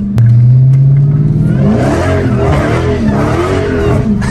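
A Dodge Hellcat revving hard and pulling away, a loud close engine roar that climbs in pitch, then drops into a rough, throbbing drive with a faint tire squeal.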